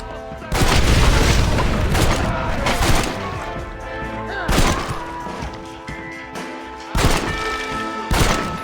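Gunfire in Red Dead Redemption: several loud, sharp booming shots land in bursts about every two to three seconds, each decaying into a rumbling tail over a continuous background of in-game noise.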